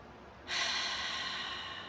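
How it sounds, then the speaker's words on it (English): A deep breath drawn in through the nose during a breathing exercise starts abruptly after a short quiet moment and continues as a steady, soft, airy rush. "You can take a really good inhale"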